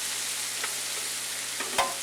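A large Vidalia-style onion frying in a pan for a West African groundnut chicken stew, a steady soft sizzle with a few brief stirring clicks, one sharper scrape near the end.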